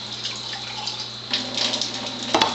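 Water pours in a thin steady stream from a water ionizer outlet at close range, a soft even trickle with a brief louder splash near the end.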